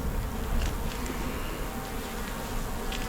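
A large honey bee colony in a hive whose brood box is nearly full, with a honey super above, buzzing in a steady, dense drone that stays close and loud throughout.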